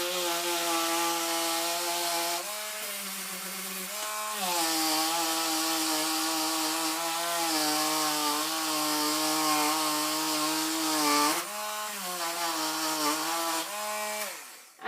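A high-pitched rotary tool with a sanding head whines steadily while sanding lino, its motor pitch dipping briefly a few times under load, with continuous gritty abrasive hiss and no talking.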